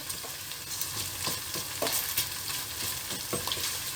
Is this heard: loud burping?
no